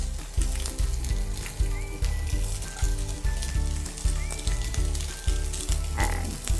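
Sliced garlic and onions hit hot oil in a pan for a South Indian brinjal stir fry, giving a steady, close sizzle under a regular, rhythmic pulsing backdrop.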